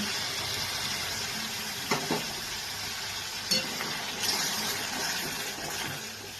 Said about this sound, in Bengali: এইবার আমি এর মধ্যে যে মশলাটাকে বেটে রেখেছিলাম আদা রসুন কাঁচা পাকা লঙ্কা আর গোটা জিরে এটাকে আমি এর মধ্যে দিয়ে দিচ্ছি